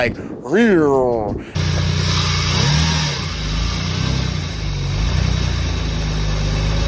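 A voice first imitates a rising and falling whine, then a Lexus IS300 idles while the steering wheel is turned. A leaking power steering pump adds a faint whining tone over the steady engine hum.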